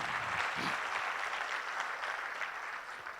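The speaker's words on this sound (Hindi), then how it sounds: "एक बार जोरदार तालियां हो जाए आप सभी लोगों के लिए" A crowd at a celebration program in Jaipur breaks into continuous, vigorous clapping, steady and fairly loud for the whole stretch, with no talk over it.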